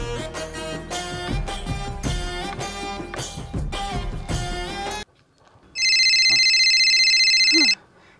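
Music plays for several seconds and cuts off; after a short pause, a phone's bright electronic ringtone sounds loudly for about two seconds.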